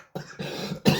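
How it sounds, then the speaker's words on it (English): A person coughs in a few short, close bursts, the last one the loudest. "I'm so sorry for the cough."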